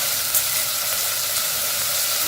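Ingredients for a pomegranate and orange rasam sauté in a hot pan with salt added, giving a loud, steady, close-up sizzle that continues throughout without speech.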